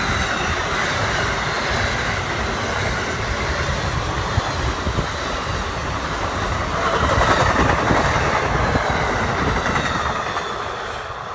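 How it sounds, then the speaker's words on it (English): An Amtrak Acela train passing at Jersey Avenue, a loud, steady rush of wheels and rail noise with clickety-clack and faint squeal that holds constant throughout, swelling slightly toward the end. "Amtrak Acela."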